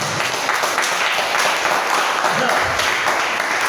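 An audience applauding at a youth church seminar, a continuous dense wash of clapping filling the hall, steady and fairly loud, with voices mixed into it.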